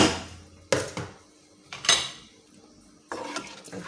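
Metal spoon scraping and knocking against a cooking pot while egusi is stirred with a little water, a few sharp clanks and scrapes separated by short pauses.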